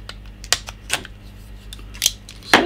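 Packaging on a Gigabyte GA-Z77X-D3H motherboard box being cut, producing a few sharp, close snipping and slicing clicks spaced irregularly over a quiet background.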